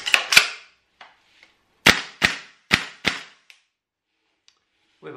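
A VFC HK417 airsoft rifle converted to HPA fires single semi-auto shots, about seven sharp loud cracks in uneven clusters with short gaps, close by and mostly alone, with a faint voice at the very end.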